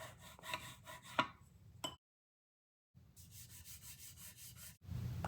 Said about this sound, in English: I'm going to burnish this with my bone folder.